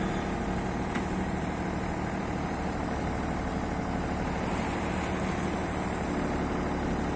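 A Yanmar VIO30 mini excavator runs with a steady, close diesel drone while its bucket hydraulics work, a continuous rumble with no talking.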